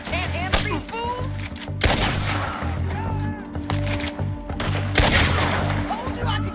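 Gunshots ring out in Red Dead Redemption 2, several sharp close cracks spaced a second or two apart against a low, steady background, with voices talking between the shots.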